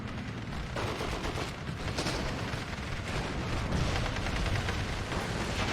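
Massed rifle fire and distant explosions rumble without pause in a Steel Division 2 battle involving Fallschirmjäger infantry, a dense crackle of gunshots layered over deep artillery booms.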